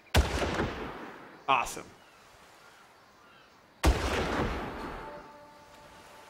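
Gunshots in the 2004 shooter game Far Cry: two loud, sharp reports a few seconds apart, each trailing a long echoing decay, with a brief burst of sound between them and someone speaking briefly.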